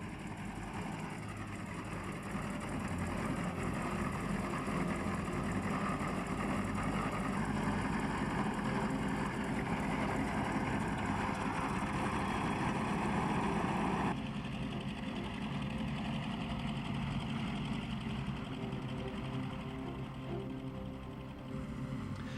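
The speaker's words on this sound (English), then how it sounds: "The glorious sound of 2 Bristol Mercury engines tore through the quiet of Duxford Aerodrome." Two Bristol Mercury radial engines of a Bristol Blenheim bomber at Duxford Aerodrome, a steady droning hum running continuously, fairly faint and distant.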